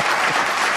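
An audience at a Hindi comic poetry recital (kavi sammelan) claps in a brief, dense burst of applause. The crowd sound is steady and close throughout.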